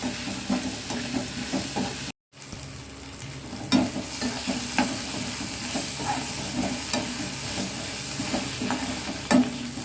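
Guava pieces sauté in a pan for a guava chutney with a little tamarind, giving a steady close sizzle with scraping stirs throughout, one brief dropout near the start and a few sharper clinks of the spoon against the pan.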